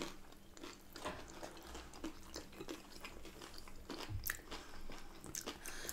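Someone bites into and chews a crispy roast potato with plenty of salt on, close crunching and mastication repeating irregularly for several seconds, with occasional sharper cracks and no speech.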